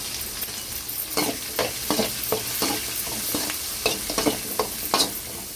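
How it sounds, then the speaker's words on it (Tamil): Onions sautéing in a pan for a jackfruit seed curry, a bright constant sizzle with repeated rhythmic stirring scrapes of a spoon, close and clear, with no voices. "பார்த்தீங்கன்னா வெங்காயம்லாம் நல்லா வந்து வதங்கிடுச்சு"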